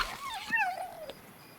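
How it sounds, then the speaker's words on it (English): A jackal pup creature in the game Monster & Memories lets out one short, whining yelp with rising and falling pitch, like a small dog's whimper, fairly close and alone. "This is a jackal pup."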